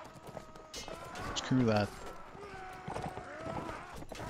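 Horse hooves clip-clop in the Mount & Blade game as a mercenary horseman rides, a short rhythmic burst of hoofbeats mixed with game noise while someone talks over it.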